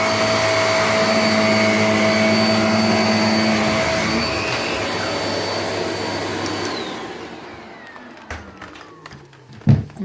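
A Shark Lift Away True Pet bagless upright vacuum cleaner, model NV680UKT, roars loudly and steadily with a whining motor tone, then winds down in the last seconds to a few clicks and bumps.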